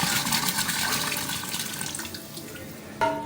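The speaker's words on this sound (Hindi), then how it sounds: "ये हम और 4 लीटर पानी ऐड कर रहे हैं" Water pours into a large cooking pot as more liquid is added for a potato rice tehri, with a steady broadband splashing rush that lasts throughout and ends in a brief louder splash.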